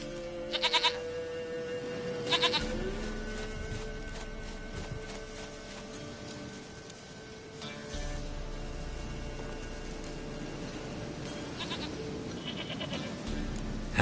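A goat bleats twice in The Witcher 3 video game, short wavering cries over a steady ambient background with faint hoof-like clopping.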